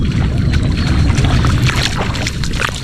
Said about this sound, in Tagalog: Lakas pa rin talaga ng agos, oh.